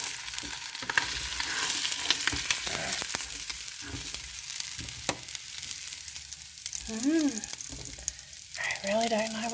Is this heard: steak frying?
yes